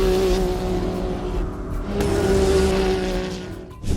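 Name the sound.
custom-built 2021 Can-Am Maverick X3 Turbo RR off-road vehicle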